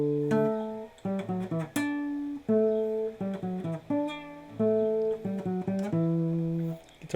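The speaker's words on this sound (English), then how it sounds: "Guitar's a little out of tune, sorry." A slightly out-of-tune guitar plays a theme as a clear, close melody of plucked notes with quick triplet figures between longer held tones. It plays alone with no talking.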